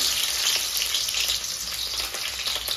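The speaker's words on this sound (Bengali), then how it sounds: "তেল গরম করে নেওয়ার পর কড়াই দিয়ে দিল পেঁয়াজ" Steady, dense sizzling of onions frying in hot oil in a kadai, close and continuous with no talking.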